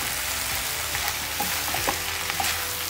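Tuna and mushroom pie filling sizzling and frying in a pan while being stirred, a continuous close crackle with small scraping stirs and no talk.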